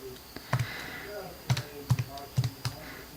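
Calculator keys are pressed close by as an equation is entered, giving about eight faint, sharp taps in small uneven clusters over quiet room tone.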